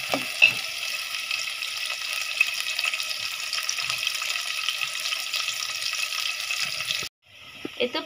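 Onions frying in a pan, a dense steady sizzle with faint stirring clicks that runs for several seconds and then cuts off abruptly.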